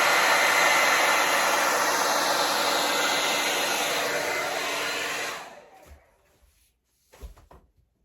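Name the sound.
hair dryer blowing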